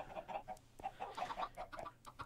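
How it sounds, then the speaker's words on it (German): A flock of Minecraft chickens clucking, overlapping short pitched clucks in a steady patter from several birds nearby, moderately loud, with no voices. "Das sind schon einige Hühner jetzt mittlerweile."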